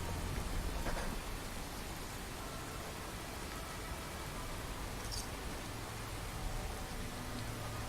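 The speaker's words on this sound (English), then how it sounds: "Oh man, this rain's really coming down." Heavy rain pours in a video game, a dense continuous hiss of falling water that stays steady throughout, with faint low rumbling underneath.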